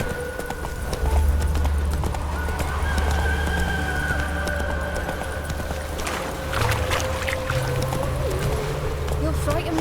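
Horse hooves clip-clopping in a steady rhythm while riding in The Witcher 3, mixed with game ambience and occasional voices talking over the hoofbeats.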